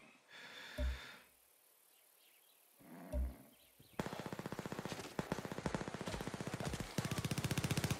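Gunfire in Far Cry 6: a few low roaring booms, then rapid automatic fire rattling steadily in fast, even bursts, loud and close.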